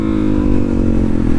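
A motorcycle engine revs hard in second gear during a wheelie attempt, a loud, close, buzzing drone with a steady rising growl and some rattling clatter.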